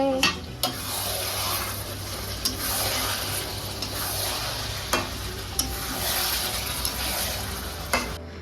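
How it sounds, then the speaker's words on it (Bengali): Mutton cooking in a pan in a home kitchen, being stirred with repeated scraping strokes and sharp utensil knocks over a continuous close sizzle, with no talking. "এই যে এখন এখানে মাটন রান্না হচ্ছে।"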